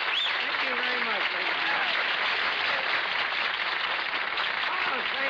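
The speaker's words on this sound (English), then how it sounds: "They're applauding" Studio audience at a television comedy variety show applauding, a steady, even wash of clapping that holds at moderate level for several seconds with faint voices mixed in.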